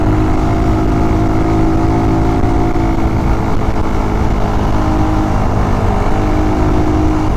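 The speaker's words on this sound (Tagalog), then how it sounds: "Palyado talaga si Raider eh." A worn Suzuki Raider 150 motorcycle idles with a misfiring engine, a loud, steady, close drone that carries on without a break and with no talk over it.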